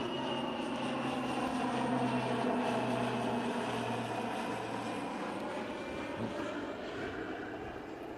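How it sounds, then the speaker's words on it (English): An airplane passes overhead outdoors, giving a steady, fairly distant engine drone that holds evenly for several seconds with no talking. "we've got a nice plane coming over here."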